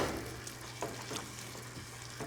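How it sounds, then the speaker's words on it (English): Mascarpone cheese is stirred into a truffle mushroom risotto in a pan, a quiet soft sizzle with a few gentle scraping strokes of the spoon, close and low in level, no voices. "We can stir that in."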